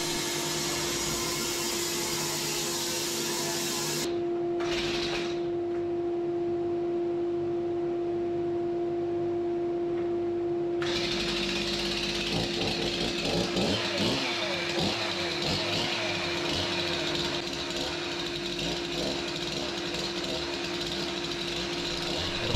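A small engine idles with a steady hum, then a chainsaw roars to full power and keeps cutting loudly and continuously through a spruce log.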